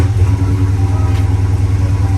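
A car engine idles quietly, its steady low rumble holding even and close with no other sounds over it.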